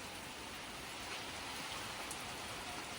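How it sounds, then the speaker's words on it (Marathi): Wind-driven rain sweeping back over a mountain trekking trail, a steady broadband hiss of rainfall and gusts, faint and continuous with no voices. "वारा असं होतं म्हणजे तो गेलेला पाऊस परत इकडं आला रे"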